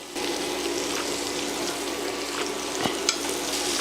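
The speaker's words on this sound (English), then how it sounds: "Now we're going to add our butter." Butter melting in a hot frying pan over crushed peppers while making smothered chicken and gravy, giving a steady loud sizzle throughout with a couple of faint utensil taps near the end.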